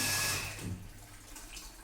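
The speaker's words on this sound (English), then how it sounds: "Now water is coming." Water pours from a coin-and-card operated water ATM dispenser into a one-litre container, a steady close rushing flow that starts strong and eases slightly.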